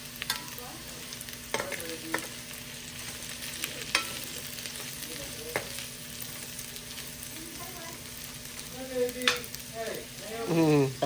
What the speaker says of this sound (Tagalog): Patatas na bago ko ilagay ito. Yan, binabrown ko muna siya.